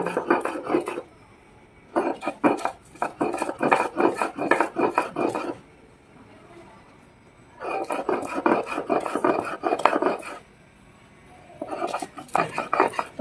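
Hibiscus flowers ground into a fine paste for a hair pack, heard as repeated close rasping, rubbing strokes in bursts with short pauses between.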